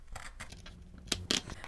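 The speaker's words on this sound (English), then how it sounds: "I'm just going to trim them with my scissors like this." Scissors trimming sewn fabric quilt pieces, a few soft snips followed by two sharper, close cuts, with no voices during the cutting.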